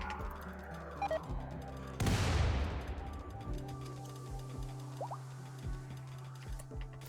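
Turrets firing at a Cyclops in Rimworld, a sudden heavy blast at the two-second mark that decays slowly, followed by scattered faint shots and thuds over a low steady hum.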